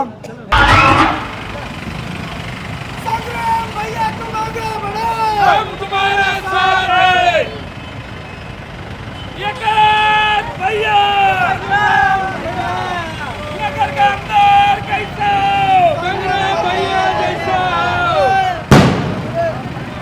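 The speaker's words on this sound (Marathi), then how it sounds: "नगर शहरामध्ये ठिकठिकाणी संग्राम जगताप यांच्या विजयाचा जल्लोष साजरा केला जात आहे" Supporters celebrate Sangram Jagtap's election win in the streets of Ahilyanagar at Mangalgate, with crowd noise under a voice speaking close by, and sharp firecracker bangs bursting near the start and again at the end.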